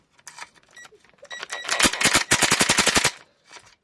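Impact gun undoing the sump bolts on a 1.8T Golf MK2 engine: a few short bursts, then a loud sustained rattling hammer of rapid blows lasting over a second, close up in a workshop.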